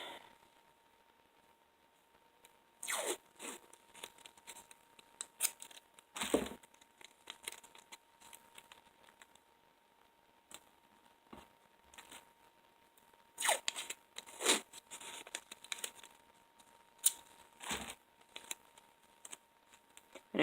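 Painter's tape being pulled and torn from the roll, several quiet crinkly rips and crunches at irregular intervals, with soft handling noise in between and no talk.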